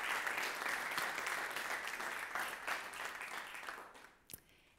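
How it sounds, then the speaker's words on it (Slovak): An audience claps for a guest at a Slovak panel discussion, a dense round of applause that carries steadily for several seconds before thinning out and fading near the end. "Ešte raz poprosím potlesk pre pani Bária Košikovú."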